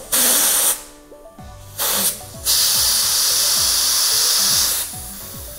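Compressed air hisses in loud, sustained bursts as it inflates a bicycle tire fitted with an inner tube, several long blasts separated by short pauses, close by and with no voices.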